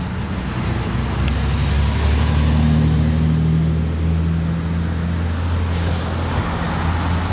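A classic Mercedes 300 SL drives past with a steady, loud low engine drone that holds for several seconds and swells slightly in the middle, set against continuous traffic noise.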